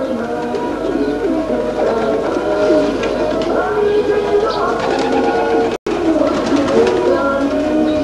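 Macedonian donek pigeons coo continuously in a loft, with many overlapping, close, loud rolling coos layered together and a brief dropout near the end.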